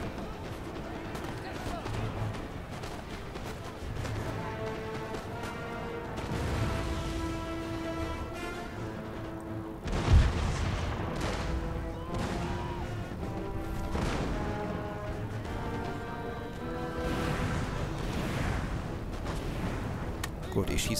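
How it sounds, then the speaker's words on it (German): Cannon firing canister shot during a Napoleonic battle in the strategy game Napoleon: Total War, with booming volleys and crashes over a steady battle din and music, one heavy blast standing out midway. "Das ist übrigens sehr positiv, wenn sie mit Kartätschen auf diese Entfernung schießen."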